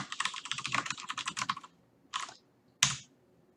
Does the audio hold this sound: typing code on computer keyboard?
yes